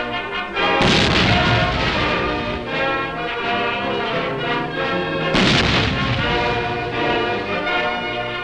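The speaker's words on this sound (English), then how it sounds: "To the thunder of a 21-gun salute booming out in the distance" Two deep booms from a 21-gun salute roll out at a ceremonial state welcome in Malaysia's capital, spaced a few seconds apart over a dense, continuous wash of sound.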